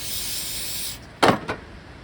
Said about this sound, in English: the final step is spraying a little bit more